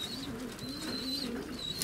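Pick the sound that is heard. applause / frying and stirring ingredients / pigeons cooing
pigeons cooing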